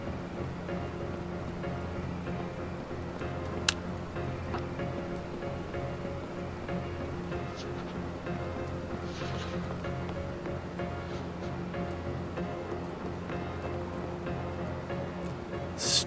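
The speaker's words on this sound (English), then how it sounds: "Oh, great. It's raining." Steady rainfall in a zombie survival video game, a dense continuous hiss of drops spread evenly across the whole stretch, with a brief sharp tick near the start and another near the end.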